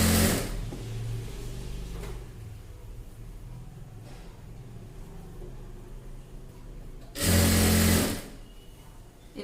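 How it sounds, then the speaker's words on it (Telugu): Sewing machine stitching two layers of cotton fabric for chudi pants, a close motor whir in two loud bursts at the start and near the end, with quieter handling sounds between. "ఇది 2 క్లాత్లను పట్టుకొని ఇలా స్టిచ్చింగ్ చేసుకోవాలి"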